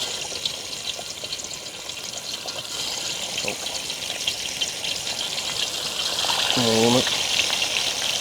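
Quail pieces fry in hot oil with a steady, bright sizzle and crackle that swells slightly near the end, under a person talking briefly.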